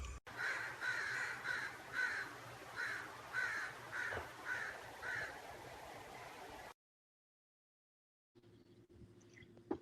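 A crow caws repeatedly in a steady, evenly spaced series of harsh calls, loud and close, before cutting to silence and then faint background noise.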